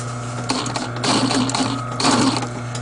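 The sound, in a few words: sewing machine stitching a north-south pattern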